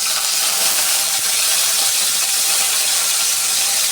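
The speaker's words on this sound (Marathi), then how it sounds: "जिरं तडतडलं की त्यात कढीपत्ता घालायचा." Cumin seeds and curry leaves sizzle in hot oil in a pan while tomato saar is being made, giving a steady, loud, close crackling hiss with no talking.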